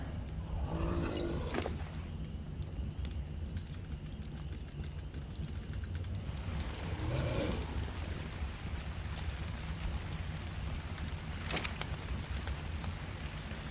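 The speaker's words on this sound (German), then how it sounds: "Jetzt regnet es noch" Steady, dense rain hiss from the video game Ark: Survival Evolved fills the whole stretch, with a low rumbling bed underneath and a few sharp clicks scattered through; no one speaks.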